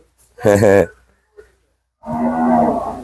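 A dairy cow on a farm moos loudly and close by twice: a short call, then a longer, deeper one after a brief pause.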